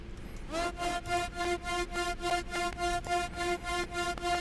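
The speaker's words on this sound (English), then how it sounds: "this last one is basically just saw wave. Changing pitch a little bit, going down." A synth saw wave in FL Studio pulses in a steady rhythmic pattern with a bright, buzzy harmonic tone, its pitch shifting slightly downward, sustained and loud with no voices.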